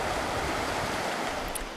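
A rushing mountain torrent in the Himalaya, a steady broadband roar of fast water, close and continuous, fading slightly at the end with no voices.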